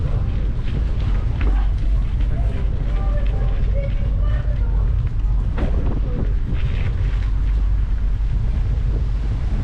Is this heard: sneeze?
no